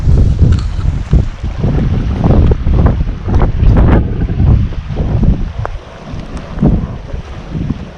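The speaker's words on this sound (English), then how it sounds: "because it's so windy" Strong wind buffets the microphone in loud, gusty rumbling bursts throughout at Crow Butte Park, with a constant low roar and no one speaking.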